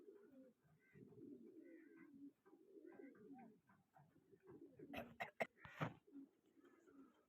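Pigeons coo in soft, throaty rolling phrases close by, repeating steadily, with a brief burst of fluttering and clapping wings near the end.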